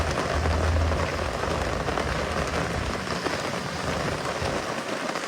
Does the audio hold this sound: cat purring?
no